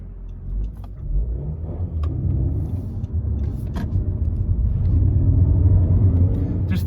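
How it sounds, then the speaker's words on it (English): A Honda Civic 1.5 VTEC Turbo with a six-speed manual gearbox pulls hard through the gears, its engine note rising as a loud, close, rumbling roar under road noise. "it sounds pretty damn nice when you're driving it up through the gears as well"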